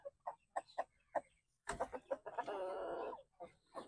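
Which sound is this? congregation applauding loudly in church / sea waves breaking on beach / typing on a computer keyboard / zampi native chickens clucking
zampi native chickens clucking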